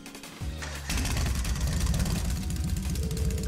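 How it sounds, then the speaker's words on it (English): A motorbike engine in Trails of Cold Steel starts with a short click and crank, then catches at about one second into a loud, rough, throbbing idle that continues to the end. "First is starting up the engine."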